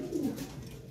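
Lahori pigeons give a brief, soft, low coo, faint and close, with no other sound.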